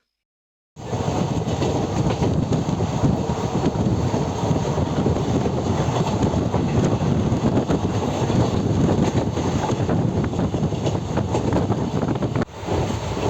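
Steady loud rumble and rushing wind of a moving passenger train between Chandrapur and Mumbai, continuous after a brief silent start, with no talking.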